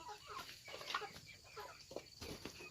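Chickens clucking in a rice-field setting, a few short irregular clucks close by over steady outdoor background noise, with no talking.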